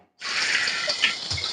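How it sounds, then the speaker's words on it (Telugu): Marinated egg gobi drops into hot oil in a pan and bursts into a bright, close sizzling hiss that holds steadily after a brief silent start, with small crackles and pops. "ఫ్రై చేస్తున్నాం అండి."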